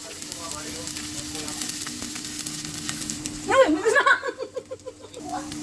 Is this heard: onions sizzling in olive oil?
yes